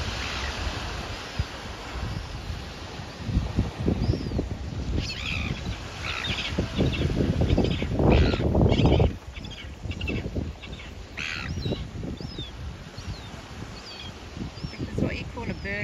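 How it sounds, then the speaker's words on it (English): Seabirds squabbling at a beach at Ohope in the Bay of Plenty, New Zealand: repeated sharp calls that come and go over steady surf and wind noise, with nearby voices talking now and then. "having a bird argument."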